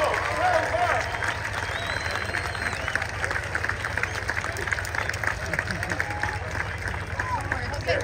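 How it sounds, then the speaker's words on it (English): An outdoor airshow crowd applauds after a vintage plane performance, with scattered clapping and cheering under background chatter and a steady low hum continuing for several seconds. "let's give him a nice big round of applause"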